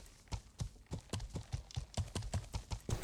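Horse hooves in the medieval MMO Life is Feudal, a quick regular series of sharp clops at a trotting pace, close and fairly faint, heard alone without talk.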